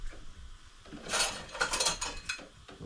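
Metal spoons, plates, pots and a ladle clatter and clink in a close, busy burst of handling, with scraping and knocking between louder rattles.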